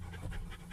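Hot dogs panting in a parked car shaded under a tree, a steady quiet rhythm of quick breaths close by, with no talking.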